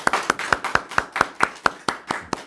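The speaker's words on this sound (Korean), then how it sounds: "우리 첫 휴가 나온 우리 이현서 청년 위해서 한번 격려의 박수 한번 쳐주겠습니다" A church congregation claps together in a slow, even rhythm, about eleven sharp claps in under three seconds, close and clear with no talk.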